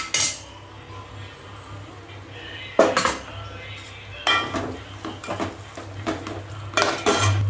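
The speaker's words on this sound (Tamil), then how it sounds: "இதை லைட்டாக வதக்கிட்டு நம்ம கட் பண்ணி வச்சுருக்க அந்த புதினா, மல்லி இலை போட்டுடலாம்." Tomatoes, mint and coriander leaves stirred in a pan for tomato biryani, with sharp metallic scrapes and clinks of a spoon against the pan coming in bursts over a low sizzle.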